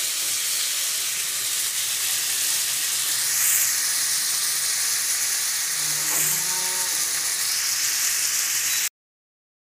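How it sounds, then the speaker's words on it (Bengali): Meat frying in a little oil hisses in a constant, moderate sizzle, with a few faint clinks midway, then cuts to silence at the end. "একটু ভেজে নিই এটা"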